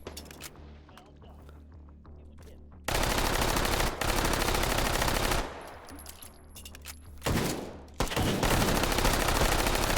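Bursts of automatic gunfire in a first-person shooter game, long sustained strings of rapid shots alternating with quieter gaps, loud and close.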